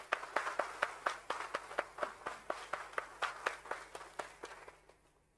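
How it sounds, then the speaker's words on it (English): Audience applause at a stock exchange listing ceremony for a healthcare company at BSE, a fairly sparse round of distinct claps in a quick steady rhythm, moderately near, fading out at the end. "let's have a huge round of applause for Entero Healthcare Solutions Limited"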